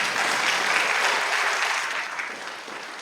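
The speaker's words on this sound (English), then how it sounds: "you can applaud that" A congregation applauds during a sermon, broad sustained clapping from many hands that holds steady, then gradually thins and fades toward the end.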